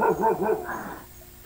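A dog gives a few quick yelping barks up close, then brief quiet before a sudden sharp sound cuts in at the end.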